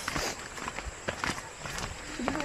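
Footsteps along a forest trail on the way to Hulugan Falls in Luisiana, Laguna, a steady run of soft crunching steps close by with faint voices in the background.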